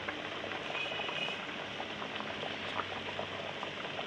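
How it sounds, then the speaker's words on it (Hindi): Chicken and bottle gourd curry (salan) boiling in a pot, a steady close bubbling hiss that continues evenly throughout, no talk. "तो देखिए सालन अच्छे से पकना शुरू हो गया है"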